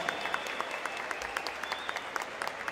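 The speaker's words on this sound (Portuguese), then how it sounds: "Uma salva de palmas para todos nós que estamos aqui na luta" A crowd applauding at a general assembly of a movement, dense continuous clapping with sharper individual claps popping out at a quick irregular rhythm, steady and fairly close throughout the short burst.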